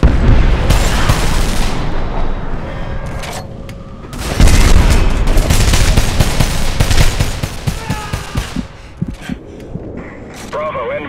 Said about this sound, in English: Toss a grenade in there.